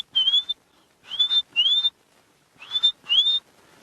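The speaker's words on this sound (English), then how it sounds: "You might also be able to hear a bird going." Bird alarm call on an African safari drive: clear, high whistled notes sounding in two bursts of two or three sharp upslurred calls each, close and loud against a quiet bush background.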